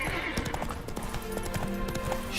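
Roach, Geralt's horse in The Witcher 3, gallops with a steady rapid clip-clop of hooves, close and continuous, mixed with game music and ambient sound and a voice speaking briefly over it.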